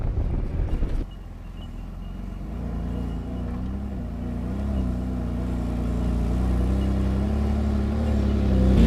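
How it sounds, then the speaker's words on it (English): A 4-wheel drive vehicle climbs a hill track in Imbil State Forest, its engine droning steadily and slowly rising in pitch and loudness, with cabin rumble and a brief rougher noise at the start. "there's a little bit of 4-wheel driving involved to get right to the top like we did"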